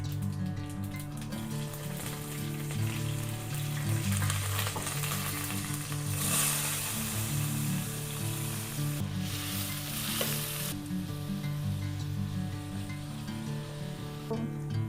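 Onions, peppercorns, mace, cumin and chillies sizzle in a hot pan for homemade chicken curry, a loud, continuous close-up frying crackle with occasional stirring scrapes and a brief louder flare midway.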